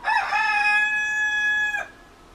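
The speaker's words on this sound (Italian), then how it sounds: "Stanno sfogando le nostre galline oggi." A rooster crows once, loud and nearby, a single drawn-out call lasting under two seconds before fading into quiet farmyard background.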